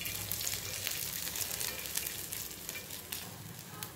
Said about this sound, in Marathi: आता मिरची छान अशी परतून झाल्यानंतर गॅस हा बंद करायचा आहे